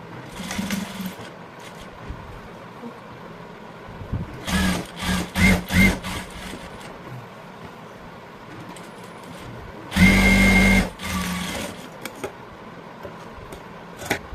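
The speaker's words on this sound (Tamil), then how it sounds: "அதனால ஃபுல்லா அடிச்சு நான் வந்து இங்க வந்து தையல் போட்டுக்கிறேன்" A sewing machine stitches a blouse in short, loud whirring bursts: a rapid run of stitches, a pause, then another sustained burst, with quiet handling sounds between.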